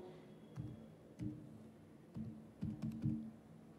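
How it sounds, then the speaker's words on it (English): Quiet keystrokes on a computer keyboard as a command is entered, a handful of separate soft taps and short clusters, close and clear with no talking. "So let's just type 8001 port number"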